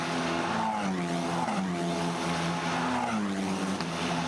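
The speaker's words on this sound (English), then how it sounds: "Racing in these cars, in these conditions, is far from easy, but Smolja doing a good job of defending" Formula Renault Eurocup race cars at Monza, engines screaming past in a continuous loud whine with pitch falling and shifting as cars pass and change gear, no talk.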